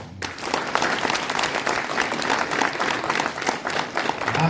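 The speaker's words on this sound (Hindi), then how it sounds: "इसके लिए आप सबों का विटनेस ताली चाहते हैं" An audience at a school welcoming event breaks into sustained applause, with many hands clapping steadily and densely at moderate volume throughout.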